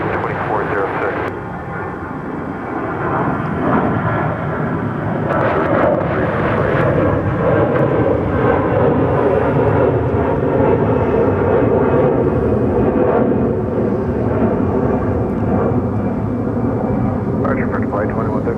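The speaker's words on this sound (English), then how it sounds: "Now Haskell, clear for takeoff 36 right" A jet airliner takes off from runway 36 right at Dallas-Fort Worth, its engine roar building into a loud, steady rumble that holds throughout, with radio talk running over it.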